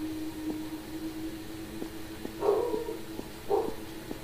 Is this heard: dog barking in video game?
yes